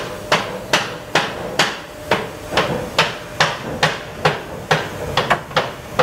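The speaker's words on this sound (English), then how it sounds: "The cooper then uses a hammer to knock temporary hoops into place" A cooper's hammer knocks temporary hoops onto oak barrel staves: about a dozen sharp, ringing strikes in a steady rhythm, close and loud, with no talk.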